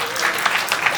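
A comedy audience applauds in a steady wash of clapping for about a second.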